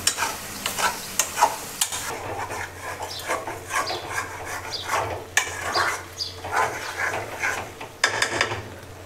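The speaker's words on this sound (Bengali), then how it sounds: "মশলাটা দেওয়ার পর মাংসটা ভালোভাবে কষানো হয়ে গেছে গা।" Spiced pork being stir-fried without oil in a pan, a steady close sizzle broken by irregular scraping and clattering stirs throughout.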